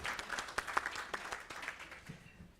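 An audience at a public works department live-streamed event claps for the MCs, a faint, sparse spatter of individual hand claps.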